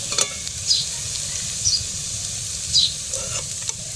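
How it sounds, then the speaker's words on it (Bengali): Papaya koftas fry in an open pan, a steady close sizzle running throughout with a few brighter spits and crackles popping over it, no voices. "কোপ্তাগুলো আমি উল্টে পাল্টে ভেজে নিচ্ছি।"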